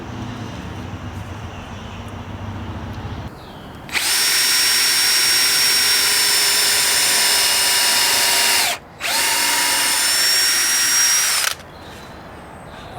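A power drill bores into wood during a cabin side-door rebuild using a bit that is too short, a loud steady whine in two long bursts with a brief pause between them.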